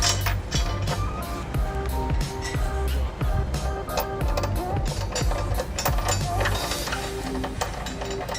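A ratchet snugs a trailer hitch bolt into a weld nut on a 2005 Honda Odyssey, giving a busy run of quick mechanical clicks and metal clatter close by, steady and fairly loud throughout with no talking.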